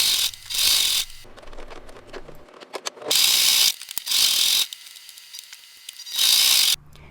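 A home sewing machine stitching around a potholder in short bursts of fast, buzzing needle action, separated by clicks and pauses as the fabric is repositioned, close and fairly loud.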